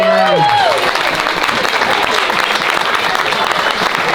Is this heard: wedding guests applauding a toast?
yes